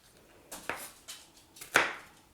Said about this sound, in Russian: Теперь мелконько порежем луковицу.